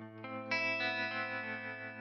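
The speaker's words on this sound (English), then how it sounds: "So a little bit of tremolo there." A sustained, effects-laden chord rings out on an Enya Nova Go Sonic electric guitar with tremolo engaged, its level gently pulsing. A fresh strum near the start adds brightness, then the chord holds steadily with no voices.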